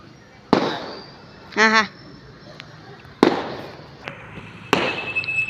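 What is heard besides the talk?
firecrackers bursting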